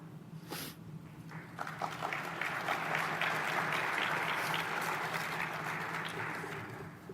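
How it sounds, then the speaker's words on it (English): A conference audience in Las Vegas applauding, a dense sustained clapping that swells, holds steady for several seconds and then slowly fades. "Give him one more round of applause."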